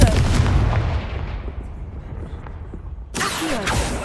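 A Confringo blasting spell in the Hogwarts Legacy video game detonates as a heavy booming blast that decays over about three seconds, then a second sharp explosive burst follows.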